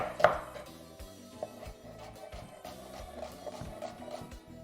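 A kitchen knife chops an onion on a cutting board, with a loud first strike followed by a steady run of quieter, evenly spaced taps.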